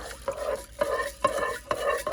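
Rice and oil are stirred in the inner pot of a Zojirushi NP-HCC10 rice cooker. A utensil scrapes around it in about four close, rhythmic strokes, each with a gritty swish.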